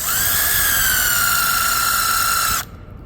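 A cordless screwdriver with a socket bit drives a screw while assembling a baker's rack, giving one steady, close, high motor whine for about two and a half seconds before it cuts off abruptly.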